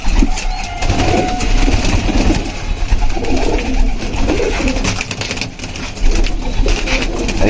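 Pigeons coo repeatedly at close range in a loud, continuous stream of soft, throaty calls, with a low engine-like hum running underneath.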